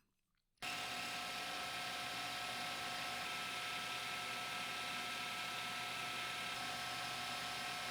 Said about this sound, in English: Starting simple with some center drilled ends for tailstock support.